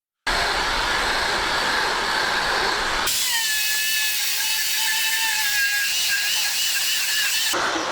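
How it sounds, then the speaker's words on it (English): Electric sanders smooth wooden surfaces for a wooden mansion, giving a loud continuous buzzing whir close by that shifts partway through to a higher, whining tone before cutting off. "Electric sanders smooth every surface to uniformity,"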